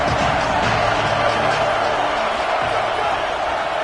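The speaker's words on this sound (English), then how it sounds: "Here comes the noise from this big crowd in Happy Valley on third down." Big stadium crowd roars in the College Football 27 video game at Happy Valley on third down, a loud, dense, continuous wash of crowd noise that holds steady throughout.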